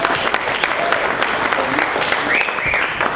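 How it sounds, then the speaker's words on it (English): Wedding guests at a reception clap hands after the meal, a loud, continuous round of applause filling the room, with a voice and a brief rising tone heard beneath it. "while we're all clapping hands"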